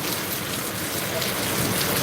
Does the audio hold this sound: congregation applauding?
no